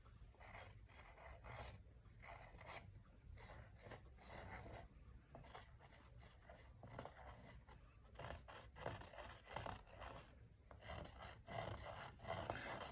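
A tool scraping into wet paint on canvas in the sgraffito manner, giving a close, steady run of raspy scratching strokes that comes in short bursts and grows busier toward the end, with no talk.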